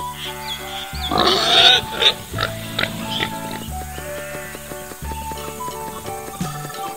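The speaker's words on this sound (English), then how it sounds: "Pig." A pig grunts and oinks loudly near the start, with rough snorting calls over a repeating musical backing.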